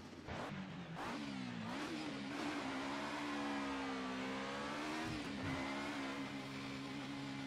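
Alfa Romeo race car engine in a 90's DTM sim racing game at Donington Park, a loud continuous engine note rising and falling through gear changes, with brief tire squeal.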